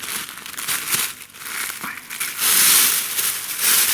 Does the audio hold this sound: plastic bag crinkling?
yes